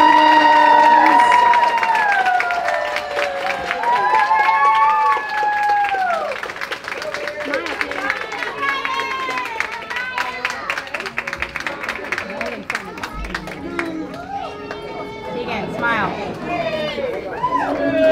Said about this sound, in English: Let's give them a great big round of applause too as you're taking those photos.